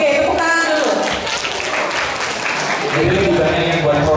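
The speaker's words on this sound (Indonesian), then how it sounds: "tepuk tangan dulu" Applause from an audience at a school project showcase preparation session, a steady wash of clapping filling the whole stretch with voices talking over it.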